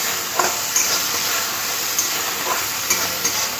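Ginger paste frying in oil with a tomato-cashew masala for doi fulkopi, a continuous close sizzle broken by a few light spoon taps and stirring scrapes, no talk.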